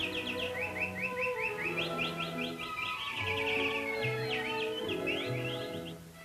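Canaries sing a bright, continuous song of rapid trilled chirps and warbles, several birds overlapping close by with a steady loudness and no talking.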